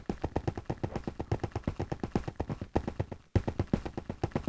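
Rapid, evenly spaced shots fire in a Minecraft game, a fast, continuous volley of punchy thuds that briefly stops for a moment before resuming.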